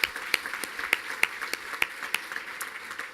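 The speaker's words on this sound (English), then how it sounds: "could we get a round of applause for all of our finalists?" Scattered hand claps from a small audience at a fintech innovation challenge event, honouring the finalists: sparse, uneven claps spaced apart rather than a dense roar, moderately close and fairly quiet.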